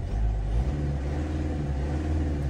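Idling Mercedes diesel engine in a Class A or CLA, a close, steady low rumble with a slight rise in revs near the start.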